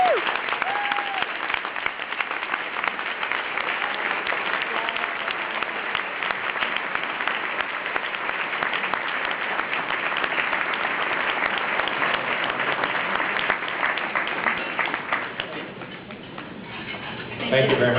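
Audience at a district court Clerk of the Year award ceremony gives steady, sustained applause, a dense clapping wash that holds for about fifteen seconds before thinning out near the end.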